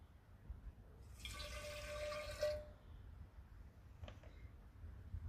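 A glass of water is poured into a jar of sand, giving a steady gurgling fill for about a second and a half, then a few faint drips and a light knock in a quiet room.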